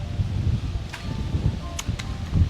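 Wind blowing across a mountain village in rural Laos, a steady low rumble with faint rustling and a few brief higher clicks, and no voices.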